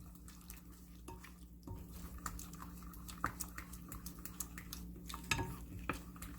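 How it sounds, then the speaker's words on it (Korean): Ground roasted black sesame stirred with poured water in a pot for black sesame porridge: faint wet drips and sloshing with scattered light scrapes and clinks of the utensil against the pot, close and quiet, no talk. "물을 붓고 섞어줍니다."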